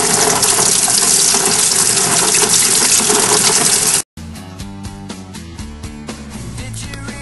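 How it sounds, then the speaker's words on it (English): Warm water runs steadily from a sink tap onto a deck of playing cards in the sink, a loud continuous stream for about four seconds before an abrupt cut to music. "You are then going to proceed to turn on the warm water"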